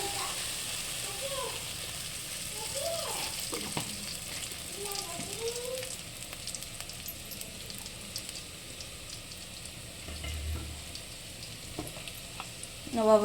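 Ghee sizzling in a frying pan while cooking a ghee roast, a steady faint crackle running throughout with occasional stirring clinks, beneath a quiet, distant voice.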